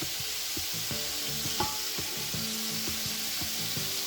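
Beef sizzles and fries steadily in a pot for Bannu beef pulao, a dense, continuous hiss with scraping stirs and light knocks of a utensil against the pot, heard close and loud.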